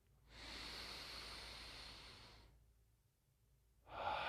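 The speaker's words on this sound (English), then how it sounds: "I'm going to take a deep breath" A presenter takes a long, slow, audible breath lasting a couple of seconds before speaking, soft and close, followed by a short quiet pause and the start of another breath.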